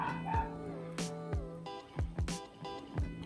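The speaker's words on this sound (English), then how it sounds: "My neighbor's dog." A neighbor's dog barks repeatedly from nearby, a series of sharp, yappy barks and whimpers spaced irregularly over a late-night kitchen where vegan chocolate chip cookies are being baked, with faint indoor background noise.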